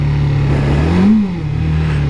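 A Suzuki GSX-F600 motorcycle engine running roughly, a loud steady drone that rises briefly in a rev and then falls back, uneven and struggling, heard alone with no voices.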